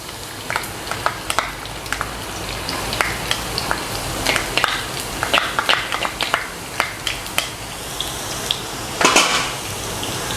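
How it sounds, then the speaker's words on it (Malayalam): Chopped garlic sizzles in hot coconut oil, a steady close frying hiss broken by repeated clinks and scrapes of a spoon stirring against the pan. "അപ്പോൾ ഇതാ നമ്മുടെ വെളിച്ചെണ്ണ ചൂടായിട്ടുണ്ട്. നമുക്കിതിലേക്ക് നമ്മുടെ വെളുത്തുള്ളി അരിഞ്ഞത് ഇട്ട് കൊടുക്കാം."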